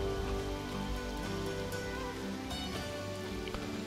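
Steady rain falls in the open-world survival RPG Outward, a dense, continuous patter on surfaces heard loud and close throughout, with faint game music beneath.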